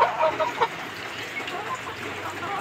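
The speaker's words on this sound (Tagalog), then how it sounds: "Yan siya na talisay na broodcock." A Talisay broodcock rooster gives a few short clucks near the start, fairly close, over soft background noise with faint other fowl.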